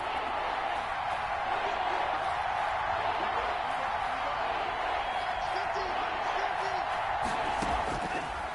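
A stadium crowd in a football video game keeps up a steady roar of cheering around a big third down, loud and constant, with some bursts of whoops.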